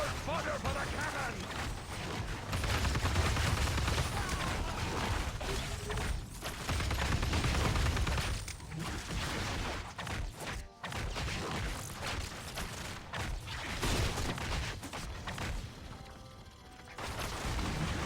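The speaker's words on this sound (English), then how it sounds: "you gotta wait for this cannon to fire" A loud, chaotic battle in the video game Marvel Heroes with a continuous roar of mechanical clanking and booming blasts, with a sharp cannon-like bang near the middle.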